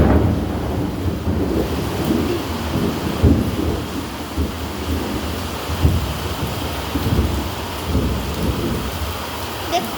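Heavy rain pours down steadily in a dense, hissing wash while low rumbles of thunder roll underneath and swell in several places, with no voices heard.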